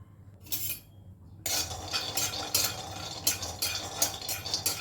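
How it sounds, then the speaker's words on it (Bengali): Peanuts and white sesame seeds dry roast in a pan, stirred with a utensil: a brief scrape, a quiet pause, then repeated rhythmic scraping and rattling strokes, close and clear. "বাদামটাকে কয়েক সেকেন্ড ড্রাই রোস্ট করে নিয়েছি এবার এর মধ্যে আমি সাদা তিলটা দিয়ে দিলাম এটাকেও কয়েক সেকেন্ড একটু নাড়াচাড়া করে নেব"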